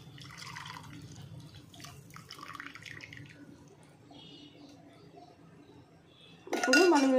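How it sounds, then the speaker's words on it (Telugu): Melted jaggery syrup is strained into a bowl, giving soft clinks and scrapes of kitchen utensils and faint liquid sounds, then a loud metallic clatter near the end. "మనం కరిగించిన బెల్లాన్ని ఒక గిన్నెలోకి ఫిల్టర్ చేసుకోవాలండి"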